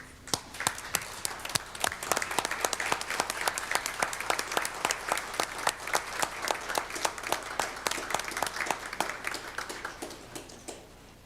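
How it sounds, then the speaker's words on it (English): A crowd at a committee meeting applauds steadily for about eleven seconds, many hands clapping in a dense, sustained wash with no voices over it. "I want to give you a round of applause for the work that you've done."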